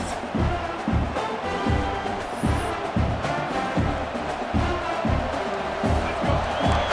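Football stadium crowd roaring and cheering continuously at a steady, loud level, with rhythmic thumping beats pulsing through the noise, likely drums or chanting.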